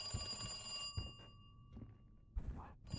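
An old-style telephone bell ringing in the survival horror game Resident Evil 2 Remake, a bright sustained ring that cuts off, followed by dull thunks and shuffling, fairly quiet with no voices.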